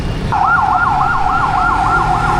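Ambulance siren on a street in Da Nang, Vietnam, wailing in a steady rising-and-falling sweep close by and loud over low traffic rumble.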